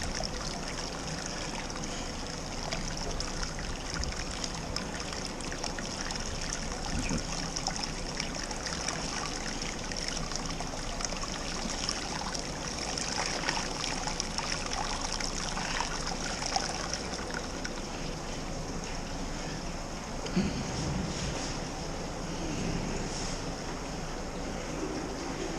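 Hot sparge water trickles steadily onto the grain bed of a smoked rauch-style homebrew beer, a continuous watery splashing and hiss that holds even for the whole stretch without talking.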